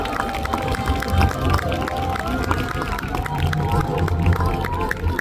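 A crowd gathered for the opening of the Mandeok–Centum urban expressway in Busan applauds the mayor, steady dense clapping mixed with general murmur, continuing throughout.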